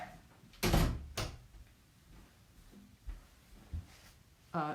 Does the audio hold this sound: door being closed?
yes